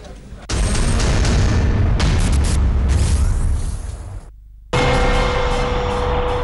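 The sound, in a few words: PETN explosive blast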